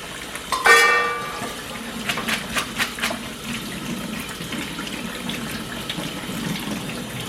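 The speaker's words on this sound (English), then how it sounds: "We're just going to let that water keep running over them until they're completely cooled" Tap water runs over cooked noodles in a kitchen sink, a continuous splashing hiss with a sharp clatter near the start and a few soft knocks, close and steady, without speech.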